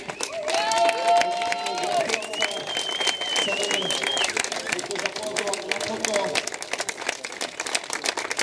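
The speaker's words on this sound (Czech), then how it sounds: "Pojďte ještě jednou velký potlesk pro ně." A crowd at a Brno mountain bike cross-country race applauds and cheers the elite women riders, steady clapping underneath a loud announcer speaking over a PA with whistling tones.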